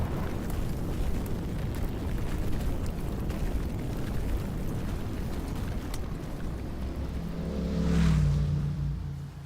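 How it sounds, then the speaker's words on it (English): Fireworks bursting in a night sky, heard as a steady, rumbling wash of distant booms and crackle that swells louder toward the end, with no voices. "Do fireworks like these still match your expectations for our date?"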